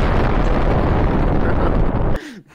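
A bomb goes off in a video game, a loud sustained roaring blast that fills the clip and then cuts abruptly to near silence at the end.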